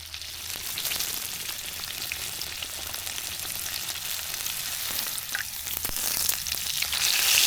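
Pork chops fry in very hot oil on a camping stove, a steady, close, bright sizzle and crackle that holds throughout with no talk and swells slightly louder toward the end.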